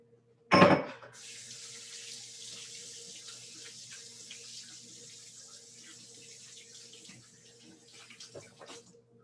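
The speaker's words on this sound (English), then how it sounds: "now I have this sticky mess on my hand, so I'm going to rinse that off" Kitchen tap running as sticky hands are rinsed after cookie dough, opening with a sharp splash then a steady close stream of water for several seconds, no talking.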